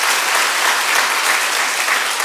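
A church congregation applauds steadily during a Sunday worship service, warmly welcoming visiting guests, with dense, even clapping that holds at a constant loudness throughout and no voices above it.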